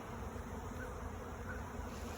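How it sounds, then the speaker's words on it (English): A swarm of honeybees pours out of a hive into the open air, making a steady, dense buzzing drone that fills the whole moment without a break or any voices. "I have got a swarm. Right now you can see them all flying through the air."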